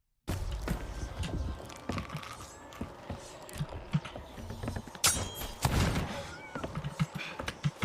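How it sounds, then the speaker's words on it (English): Two weapons drawn one after another in Sea of Thieves, a sword followed by a pistol, heard as sharp metallic clicks and thunks among busy game noise and scattered impacts. "After I eat the pomegranate, I hear him pull out a sword, and then he pulls out a pistol"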